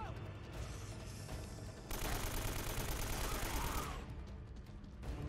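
AK rifle gunfire in the video game Uncharted: Drake's Fortune rattles in a loud, dense automatic stream that runs almost unbroken for several seconds.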